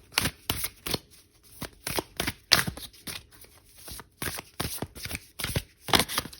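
Oracle cards shuffled by hand in a quiet room: a run of crisp, riffling bursts that come in quick uneven clusters, with short pauses between them, close to the ear and with no talking.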